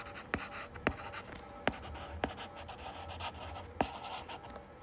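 Pen or pencil writing on paper while working a class 9 set-theory math problem, with a few sharp taps and strokes standing out over a steady scratchy background.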